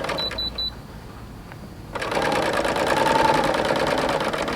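A Bernina L850 air thread serger starts up after a few light clicks and runs steadily with a fast, even mechanical whir, close by and alone.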